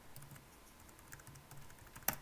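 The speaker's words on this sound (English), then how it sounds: "I keep typing a different letter because the keys are a little bit different" Typing on a laptop keyboard while entering a password on Kubuntu 17.10, a run of soft, quiet key clicks with one sharper, louder tap near the end, no talk.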